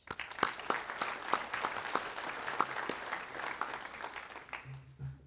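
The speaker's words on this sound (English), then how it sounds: "I just want to give you a round of applause and thank you for everything you've done for us" A small banquet crowd at a winter sports awards dinner claps for departing seniors, scattered sharp hand claps over a steady patter that tapers off as a voice begins at the close.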